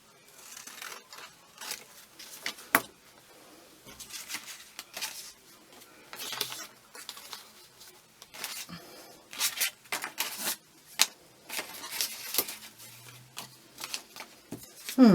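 Scissors snipping paper edging strips for a craft journal, a run of brisk irregular cuts and paper rustles up close, with no talking.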